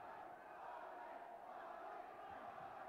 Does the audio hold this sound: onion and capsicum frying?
no